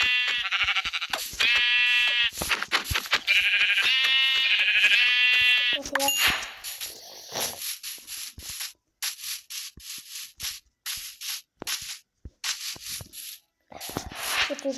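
A sheep bleats loudly several times in long wavering cries up close, followed by scraping and rubbing noises with quieter gaps.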